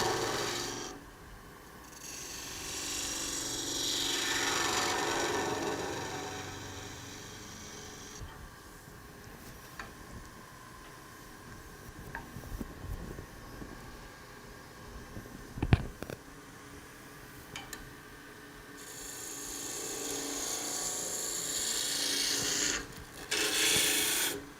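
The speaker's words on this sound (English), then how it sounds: "when you're taking steeper slope cuts with the skew, I like to switch over to the long point" A skew chisel cuts wood on a spinning lathe while a pepper mill is turned, giving broad rasping, shaving swells that rise and fall in long passes with brief quieter gaps and a few sharp ticks from the tool.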